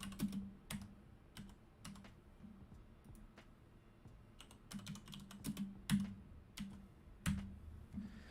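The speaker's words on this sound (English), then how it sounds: "Start typing." Fingers type on a computer keyboard in irregular bursts of crisp clicks, close by and fairly quiet, with short pauses between flurries of keystrokes.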